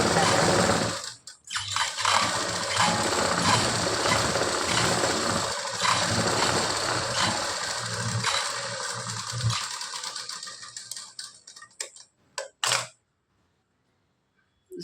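Blouse seam being stitched on a sewing machine, a steady whirring mechanical run lasting most of the time before slowing, stopping with a few clicks, and falling silent near the end.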